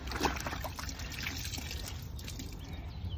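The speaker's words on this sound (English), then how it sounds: "The enviro cloth, just like the car mitt, you just add water. So I'm just gonna get this wet." Water trickling and splashing onto a microfiber cleaning cloth being wetted for car cleaning, a soft, steady wet patter close by with no talk.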